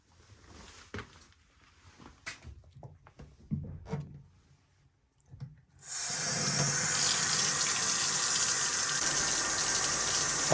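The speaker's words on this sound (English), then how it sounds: "Let's fill this sink up." Water gushes steadily from a tap into a plugged sink after a few quiet clunks and handling knocks, a loud continuous close rush that continues to the end.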